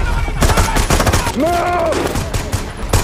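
Gunfire in a military hostage-rescue action scene on a remote island: loud bursts of shots under shouted commands and voices, with a rising whine mid-clip amid the dense clatter.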